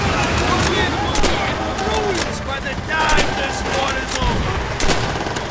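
Kar rifle fire rings out in the Call of Duty: World at War story campaign on Veteran difficulty during a town assault. Several sharp, loud shots crack irregularly over a busy battle din, with voices faintly mixed in.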